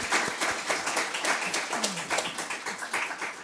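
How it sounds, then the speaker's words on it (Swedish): Warm applause from an audience at a Swedish political think-tank event, a steady patter of many hands clapping at moderate volume with some scattered taps, no talk over it. "Men jag tycker nästan att Katalys är värt en liten varm applåd för vår 100:e rapport."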